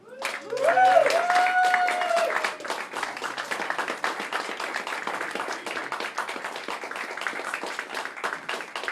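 Comedy club audience at Cozzy's breaking into applause and cheers as a comedian takes the stage, a loud whoop up front, then steady clapping from a small room under a brief voice.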